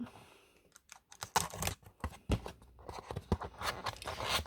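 A box of metallic watercolour paints in pastel yellow and pink tones being opened up close, with a quick run of crisp clicks, crinkles and tearing packaging noises that come in irregular bursts, loud and without any talk.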